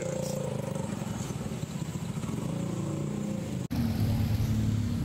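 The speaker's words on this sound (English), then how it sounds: "This is the notorious Bangkok traffic." Dense Bangkok street traffic of cars and motorcycles rumbles steadily nearby, engines droning and clattering without pause, with a brief dropout near the end before the noise resumes.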